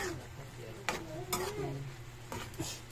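Squid adobo being stirred in a pan, a soft continuous sizzle with a few light utensil scrapes and taps against the pan, close by, with no talking.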